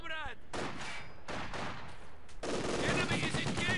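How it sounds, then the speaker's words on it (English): Light machine gun fire in the Company of Heroes 2 strategy game: dense bursts of rapid shots cut through loud music and battle noise, pausing briefly and then resuming, with a voice faintly present. "I mean, machine gun. Light machine gun."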